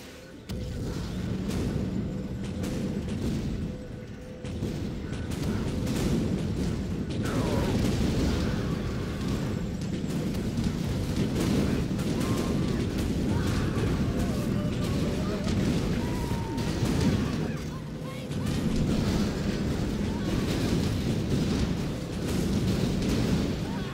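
Rocket-propelled grenades from RPG infantry slamming into tanks in a C&C Generals Zero Hour match, heard as a steady barrage of booming blasts and rumbling impacts that runs loud and dense throughout, with no clear pauses.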